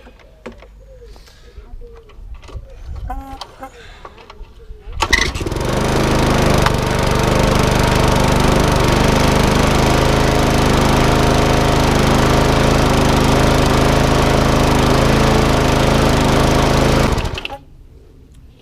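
A petrol lawn mower is pull-started after a few quiet handling noises, catching at once into a loud, steady engine drone that runs evenly for about twelve seconds before cutting off abruptly.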